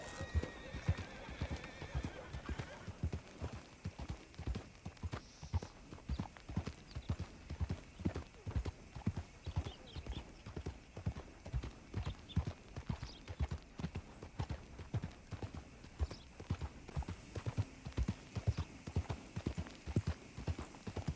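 Horse hooves clip-clopping in the video game Red Dead Redemption 2, a dense, steady run of hoofbeats throughout with a neigh early on, set against faint ambient game sound.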